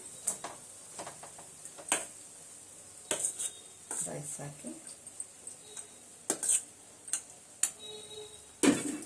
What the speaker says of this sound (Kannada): ಇವಾಗ ಮಿಕ್ಸ್ ಮಾಡ್ತಾ ಇದ್ದೀನಿ ಕ್ಲೀನಾಗಿ